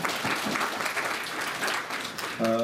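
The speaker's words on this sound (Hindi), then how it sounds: "हमारे जनेश कुमार जी जो DGM हैं चमेरा 2 में, उनके लिए भी जोरदार तालियां बजाइए" Audience at a Prime Minister Internship Scheme event at a government college in Chamba applauds steadily throughout, a dense continuous wash of clapping, with a voice rising briefly near the end.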